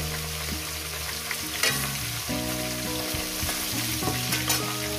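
Rohu fish heads dropped into hot oil in a pan for a bitter-greens chorchori, a steady loud sizzle and spatter running throughout with no voices.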